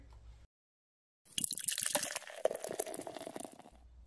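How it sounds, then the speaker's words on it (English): Exhibit A cake-flavored beer is poured into a glass after a brief silence, giving a few seconds of close gurgling, splashing liquid that fizzes as the foam settles. "Let's just pour the damn beer."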